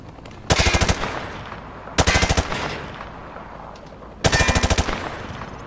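Automatic gunfire in Call of Duty Modern Warfare 2 Remastered: three loud, short bursts of rapid shots spaced about two seconds apart, each ringing briefly before fading into a low background hum, with no talking.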